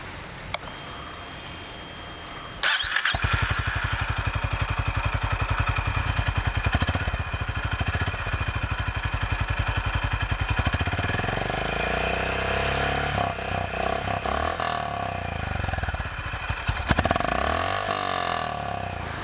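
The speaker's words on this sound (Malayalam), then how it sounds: "നമുക്ക് ഇതിൻ്റെ ഒരു എക്സോസ്റ്റ് നോട്ട് ഒന്ന് കേട്ട് നോക്കാം" A Honda Hness CB350 motorcycle cranks briefly and starts, settling into a loud, close, steady thumping idle from its single-cylinder exhaust, with a few blips of throttle near the end.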